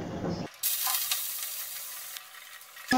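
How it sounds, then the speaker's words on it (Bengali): Salted, turmeric-coated prawns hit hot oil in a pan, bursting into a steady loud sizzle and hiss that carries on alone for a few seconds after a brief stir. "তেলটা গরম হয়ে গেছে, এবার এই তেলে চিংড়ি মাছগুলো দিয়ে দেবো।"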